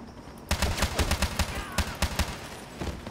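Gunfire from the video game James Bond 007 Blood Stone, with rapid bursts of shots crackling in an uneven rhythm over a continuous noisy game background, loud and close, with someone talking underneath.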